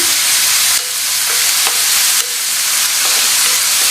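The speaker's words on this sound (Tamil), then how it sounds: "இந்த வெங்காயத்தை எண்ணெயிலேயே கொஞ்சம் வதக்கி விட்டுக்கலாம்" Onions sautéing in oil for a drumstick side dish give a steady, close broadband sizzle throughout, with a few faint clicks of stirring and no talk.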